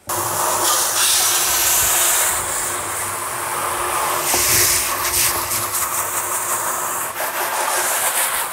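Water rinses through a food-grade polyethylene fermenting bucket, a steady, fairly loud rushing splash that runs unbroken for about eight seconds with shifting swishes.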